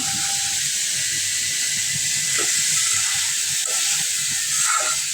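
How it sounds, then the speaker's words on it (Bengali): Tilapia pieces fry in a pan of fried spice paste, producing a loud, steady hiss of sizzling oil up close with a few soft clinks and scrapes scattered through, no talk. "তো মাছগুলো দিচ্ছি, এবার মাছটা বোনা করা হোক।"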